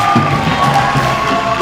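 Audience at a Black History Program 2023 event clapping and cheering, a dense steady roar of crowd noise with voices, loud and continuous throughout.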